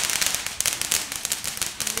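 Fireworks and firecrackers set off at a Fourth of July celebration, a dense, loud burst of rapid crackling pops.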